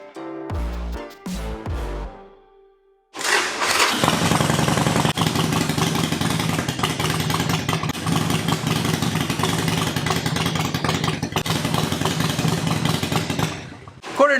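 After a few clanking sounds, an engine cranks and catches, then idles at a steady mid-pitched chug for about ten seconds before cutting off at the end.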